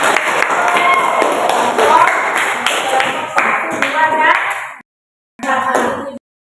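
A class of students claps together in a classroom, with rapid, sharp claps under overlapping voices. The clapping breaks off near the end, then a single voice continues alone.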